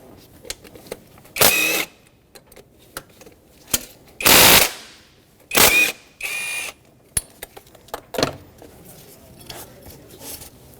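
Ratchet wrench turning the 12mm bolts on a shifter cable bracket of a 2006-2010 Hyundai Sonata 2.4L, heard as several separate bursts of sharp, rapid clicking with quiet gaps and small tool clanks between them.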